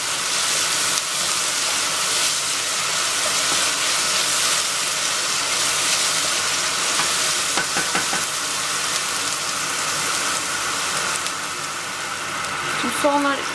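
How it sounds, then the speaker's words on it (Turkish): Onions frying in a pan with added salt, cooking for a lentil and sour zucchini stew, give a steady, dense sizzle that continues at an even level throughout, with a few faint clinks near the end. "tuz ilavesi yapıyorum ki soğanlar biraz daha hızlı bir şekilde kavrulmaya devam etsin diye."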